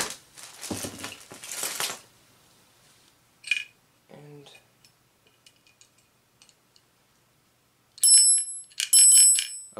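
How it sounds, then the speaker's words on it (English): An elevator chime box rings out near the end with two loud, bright bursts of bell tone, after people talk over handling and rustling noises from unpacked elevator parts. "A bell that doesn't work."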